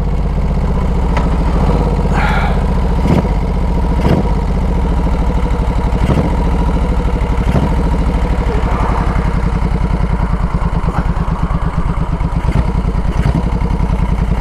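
Moto Guzzi chopper motorcycle engine running steadily up close with a low, loping throb, punctuated by periodic sharp mechanical clacks and clatter through the whole stretch.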